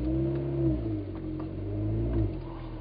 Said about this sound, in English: listen up for what my REMUS 2-piece sounds like